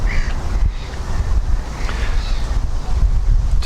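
Gusty wind buffets the microphone outdoors, a loud low rumble that swells and dips unevenly throughout.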